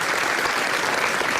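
Studio audience breaks into applause to welcome a dentist onto a TV show, a steady, dense burst of clapping with no voices over it.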